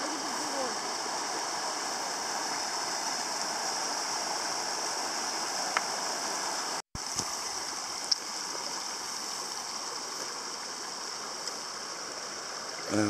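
Water rushes steadily in a stream, a constant bright babbling flow, close and loud, broken by one brief dropout midway.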